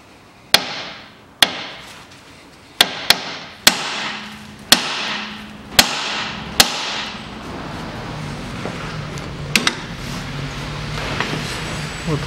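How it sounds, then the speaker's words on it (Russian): Hammer blows strike the steering knuckle of a 2006 Hyundai Accent 1.5 to free a tie rod end. About nine loud, sharp metallic strikes come at uneven intervals, each ringing briefly, and the later ones are softer. "2-3 хлестких удара в цапфу, на которую одевается наконечник, и наконечник у нас отойдет."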